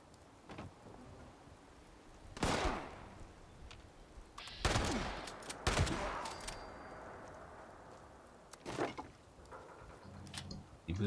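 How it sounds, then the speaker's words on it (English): Quad grenade launcher fire in Fallout 76, several sharp booming blasts spaced a second or two apart, loud and close, with rain-like hiss and faint game noise between. "Quad grenade launcher."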